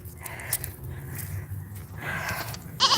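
A pet goat named Hazel bleats at an evening feeding, a nasal call rising near the end of a quiet farmyard scene with low background rumble and a few scrapes.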